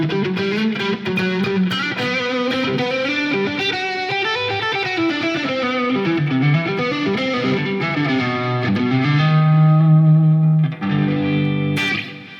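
Electric guitar riff with some strings muted, played through effects with distortion and chorus, rhythmic and continuous with shifting notes, alone and fairly loud throughout.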